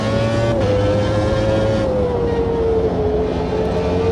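A race car at Road America in a racing video game holds a loud, steady engine drone whose pitch slides gradually downward as it brakes, with no talking.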